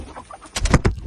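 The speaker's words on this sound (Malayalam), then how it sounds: "നാടൻ കോഴികൾ വിൽപ്പനയ്ക്ക്" Native village chickens for sale on a farm give a short burst of loud, close clucking and flapping-like rustles, several quick pulses in a row after a quieter stretch of background noise.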